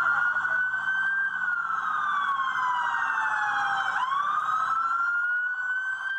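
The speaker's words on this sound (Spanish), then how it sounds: "la policía encendió las sirenas de las patrullas" Police patrol car sirens wail in Medellín as a curfew begins on a rainy evening of heavy traffic, one loud continuous siren sweeping slowly up and down, then rising again, with no talk over it.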